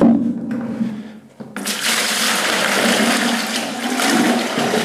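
Water gushes out in a loud continuous rush after a brief pause as a bucket of rinse water is emptied, from cleaning a Komatz paste tank, with no voices.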